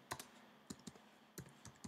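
Light typing on a Mac computer keyboard while a Git command is entered, a few soft scattered clicks, close and very quiet.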